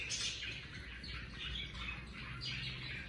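Parrots kept by a trainer chirp and squawk continuously in a noisy indoor setting, with bright overlapping calls and occasional wing flutters over a steady background rumble.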